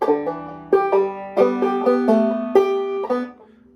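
Bright plucked banjo notes of "Loch Lomond" in a bouncy clawhammer rhythm, with a drop-thumb note among the strums, played solo and up close.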